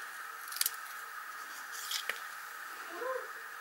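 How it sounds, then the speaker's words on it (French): Scissors snip through paper card in a crafting session, a few soft, quick cuts scattered over a faint hissy background, close but quiet. "je vais découper un peu par ici"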